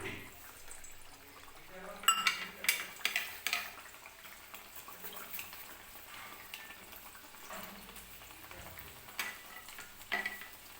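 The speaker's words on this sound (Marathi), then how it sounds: "व्यवस्थित तेलामध्ये ही पुरी आपल्याला तळून घ्यायची आहे." Sabudana and potato puris deep-frying one at a time in hot oil over a low flame, a steady sizzle punctuated by louder bubbling bursts and clatters as pieces go in.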